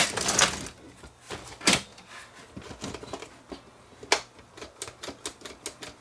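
Sony SLHF900 VCR loading a pushed-in tape, a run of mechanical clicks and clacks with a few sharper knocks amid lighter irregular ticking, close and alone.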